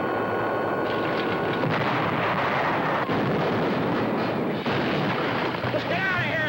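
Cartoon artillery blasts at a balloon in a Disney animation, a dense rumbling barrage of booms and roaring noise running continuously, with voices speaking over the din.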